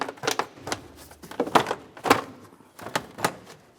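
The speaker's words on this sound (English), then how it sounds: "For this, typically you just give it a little wiggle and it should slide right off of there" Air inlet tube being wiggled and slid off the engine of a 1994-2002 Dodge Ram 2500, giving a series of sharp plastic knocks and rubbing clicks at close range, spaced irregularly over a few seconds with no talking.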